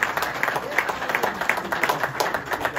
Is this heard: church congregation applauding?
yes